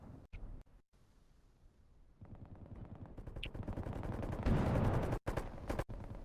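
Squad gunfire in the tactical shooter Bellum: a few isolated cracks, then a build into sustained rapid automatic bursts that grow louder and denser, with brief gaps near the end.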